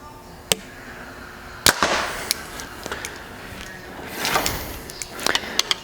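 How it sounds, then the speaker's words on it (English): Arrow released from a Hoyt Axius Alpha compound bow outdoors, a few sharp snapping thwacks and a clatter heard at moderate distance, with quiet background hiss between the hits and no talk. "Let's go with first shot out of this Axius Alpha."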